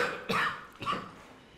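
A man coughs twice in a home scene, two short, close, rough bursts about half a second apart, followed by quiet room tone and no speech.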